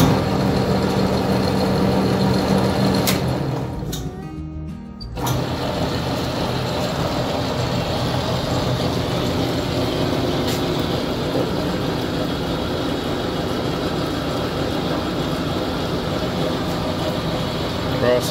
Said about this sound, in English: Cross feed is working.